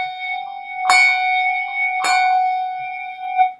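Two handbells in the four-in-hand style strike together twice, about a second apart, with bright ringing tones that sustain and slowly fade between strikes; no voices.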